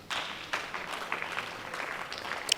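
Congregation clapping during a live church prayer and fasting service, a soft, distant wash of many hands with scattered sharper claps rising and falling, continuous and fairly faint.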